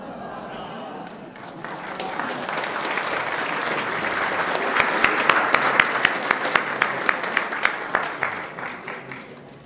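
A church congregation claps and cheers at a Sunday service, applause swelling to a dense roar and then settling into steadier, more distinct claps as it fades.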